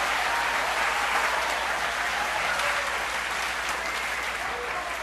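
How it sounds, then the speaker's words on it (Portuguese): A church congregation applauds in a steady, even wash of clapping that carries on for several seconds, dense and moderately loud, with no pauses. "Se você está aplaudindo o Nazareno"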